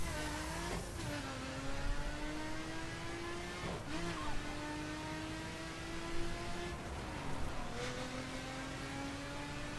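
Maserati MC12 racing in the video game The Crew, its engine revving high and climbing through the gears with several distinct shifts, heard up close and continuously with no talk over it.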